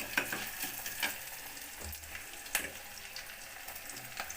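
Tomatoes and onions sauté in oil in a clay pot, a quiet, continuous sizzle broken by occasional soft scrapes and clinks of stirring, with no talk.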